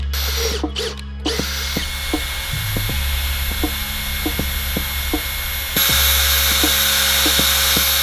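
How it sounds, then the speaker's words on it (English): A power drill bores holes around the entrance of a homemade fish trap. A steady high whine runs under repeated short clicks and bursts, and the motor grows louder and brighter near the end. "I'm gonna begin by drilling some holes around the circumference of each little entrance that we've got here."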